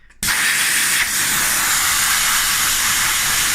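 A Kaasen cryotherapy device sprays through its black nozzle, starting abruptly with a loud, close, continuous hiss that holds steady for several seconds.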